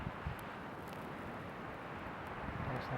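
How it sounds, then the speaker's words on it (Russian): Strong wind blowing outdoors in open grassless terrain near a small campfire, a steady broadband roar with gusty buffeting on the microphone throughout, no voices. "Вот какой ветрище, видите? Тянет ветер"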